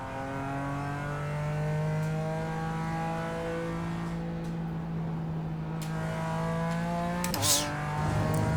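BMW M4 GT4 race car lapping in iRacing, engine holding a steady high drone that climbs gradually, then a quick gear change and drop in pitch before it pulls up again.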